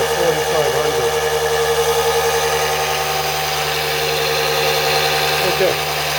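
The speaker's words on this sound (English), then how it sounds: "Okay, so much for the motor." A small six-pole, two-coil electric motor runs with a steady, loud tonal whine and hum, its pitch shifting briefly near the start and again near the end as its speed changes.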